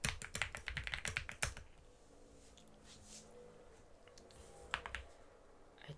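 Quick keystrokes clatter on a computer keyboard in a fast burst, then a pause, then a few more taps. The typing is close and fairly quiet, with no talk over it.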